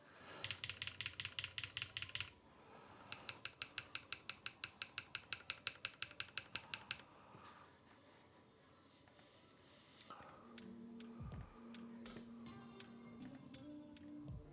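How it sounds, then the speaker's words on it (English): Typing on a QK65 mechanical keyboard, with fast, even runs of crisp key clacks in bursts, close and clear, followed by quieter shuffling and a few louder thocks and handling noises near the end. "It sounds like a normal keyboard to me."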